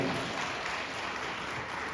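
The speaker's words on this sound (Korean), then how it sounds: "다시 한 번 큰 박수 보내주시면 감사하겠습니다" Wedding guests at a hotel ceremony clap after the groom's serenade for the bride, giving a steady, fairly quiet wash of applause that holds evenly through the whole moment.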